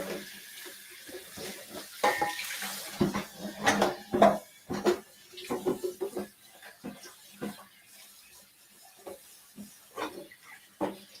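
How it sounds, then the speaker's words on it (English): Blender being rinsed under kitchen tap water, with clanking of the jar and lid, intermittent splashing and light knocks against dishes, close by and fairly quiet with scattered handling noises. "let me rinse out my blender"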